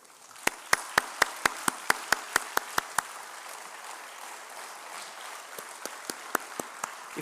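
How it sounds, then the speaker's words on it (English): At a graduation speech, one crisp, steady clap repeats about a dozen times over faint crowd clapping. It pauses, then resumes more sparsely. "Guys, give a round of applause to them."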